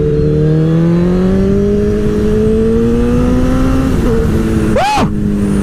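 A motorcycle engine rises in pitch as it pulls hard, a loud close drone climbing steadily, then a brief sharp rev sweep near the end while the rider's ride continues.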